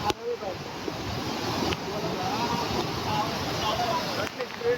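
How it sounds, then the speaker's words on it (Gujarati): Fast-flowing rainwater rushes past at Pavagadh during rain, a steady, broad roar with some wind buffeting the microphone and faint voices underneath. "કેટલી સ્પીડમાં પાણી જઈ રહ્યું છે."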